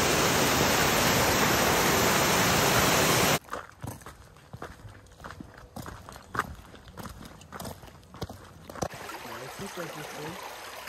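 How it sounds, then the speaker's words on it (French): Waterfall on the Calway River heard first as a loud, steady rushing roar, then cutting to a quieter riverside scene with scattered footsteps, knocks and faint rushing water in the background. "on commence déjà à entendre la chute"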